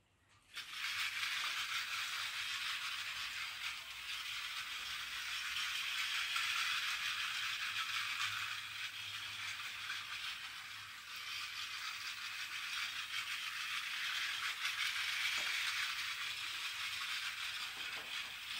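A 3D printer printing toy train track pieces, with a steady, busy mechanical rattle and whirring motor chatter that runs continuously at moderate level, alone.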